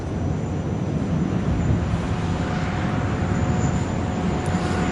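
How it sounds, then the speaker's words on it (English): Russian Knights Sukhoi Su-30SM jets in diamond formation climb away at Dubai Air Show 2017, a steady distant jet roar and rumble filling the air without pause. "they'll clean themselves up and start applying some power as they pull the aircraft away and build up some more speed"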